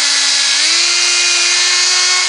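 A power drill bores holes through wood for a doll-sized bunk bed, giving a loud, steady, close whine whose pitch rises slightly as it runs, with no talking.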